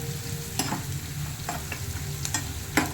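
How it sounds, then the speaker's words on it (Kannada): Onions fry over a low flame until brown for bisi bele bath, a soft steady sizzle broken by several sharp spatula scrapes and clicks against the pan, close and quiet. "ಸ್ವಲ್ಪ ಕಂದು ಬಣ್ಣಕ್ಕೆ ಬರೋವರೆಗೂ ಹುರ್ಕೊಳ್ಬೇಕು ಫ್ಲೇಮ್ ಕಡಿಮೆ ಇಟ್ಕೊಂಡೇ ಹುರ್ಕೊಳ್ಳಿ"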